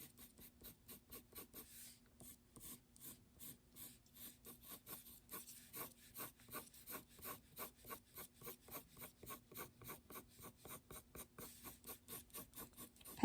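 A pencil sketches and shades a pumpkin drawing on paper: a steady, rhythmic scratchy rasp of back-and-forth strokes, faint and close, continuing without pause and without talking.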